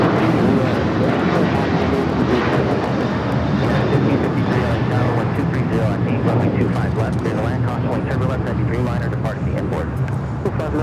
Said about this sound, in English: That is American Airlines 1084 taking off to Chicago on the 737-800.